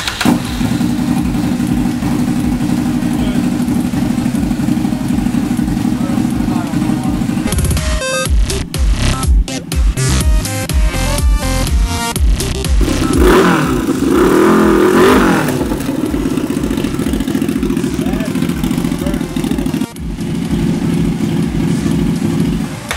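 Suzuki TL1000R motorcycle running hard on a dyno while smoking heavily, a loud continuous engine roar with revving swings and rough changes in the middle, close and steady throughout with no talking.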